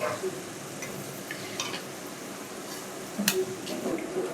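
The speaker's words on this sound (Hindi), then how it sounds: "तो बूंदी फ्राई हो गया है, अब इसको निकाल लेते हैं।" Boondi, small gram flour pearls, fry in hot oil with a steady sizzle, while a spoon stirs and scrapes against the pan in occasional clinks and a sharper knock near the end.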